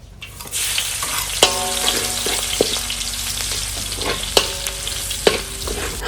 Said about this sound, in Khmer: អញ្ចឹងយើងមកធ្វើការបំពងខ្ទឹម តើបងប្អូនណាយើងដាក់លលីងខ្ទឹមជាមួយនឹងម្ទេស